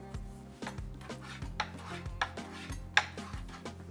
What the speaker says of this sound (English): Cut the cilantro up nice